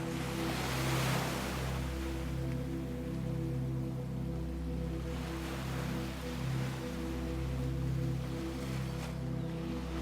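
Ocean surf breaking on the shore, a continuous rushing wash of waves with gentle swells in loudness, steady and fairly close, with no voices.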